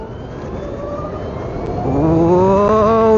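A BMW CE 04 electric scooter accelerating away, its whine rising steadily in pitch and getting louder over a few seconds, with wind noise and no voices.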